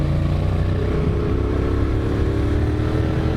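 A motorcycle rides along a road on a 2019 road trip through the Cévennes, with a steady, close engine drone and wind rush that holds constant throughout, with no talking.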